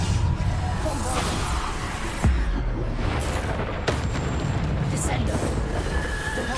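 Bombarda spell blasts in Hogwarts Legacy, loud booming bursts recurring over a dense, rumbling battle mix, with a voice speaking over the action.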